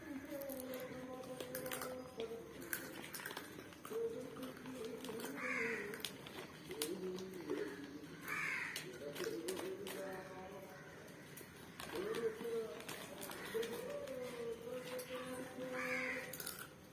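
Crows caw in harsh, repeated bursts spaced a few seconds apart at moderate distance, with children's voices and household talk running underneath throughout.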